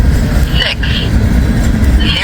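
A Norfolk Southern freight train rolls past close by on a cold day, a loud, steady low rumble of wheels and cars that fills the whole stretch, with a person speaking over it.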